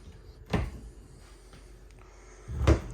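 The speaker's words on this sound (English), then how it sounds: "they're pull-out drawers. Sitting right there on rollers. An Even those are soft touch closed." Soft-close pull-out drawers on rollers in the kitchen of a 2022 Forest River Riverstone Reserve 3670RL fifth-wheel RV, heard as two muffled thumps about two seconds apart, moderately close, with no talk.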